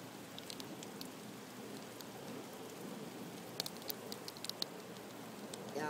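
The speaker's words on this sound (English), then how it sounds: "It's been raining for hours" Steady rain patters on surfaces during a thunderstorm, a soft continuous hiss with scattered sharper drops, fairly quiet and heard alone without voices.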